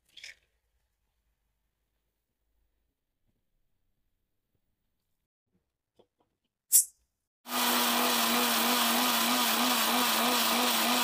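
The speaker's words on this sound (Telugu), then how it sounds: "ఇప్పుడు మిక్సీ పట్టుకుందాం" A mixie grinder grinding roasted lentils and spices starts up after a few quiet seconds and a couple of clicks, then runs loud and steady with a constant motor whine and rattling.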